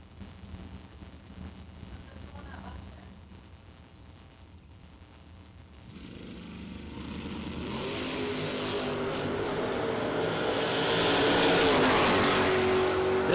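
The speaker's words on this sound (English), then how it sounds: "Bobo Marshall and Billy Talbot come to the starting line" Drag racing cars, including a 1969 Camaro, sit at the starting line with a low, distant rumble that swells into a loud, rising engine roar as they launch down the strip.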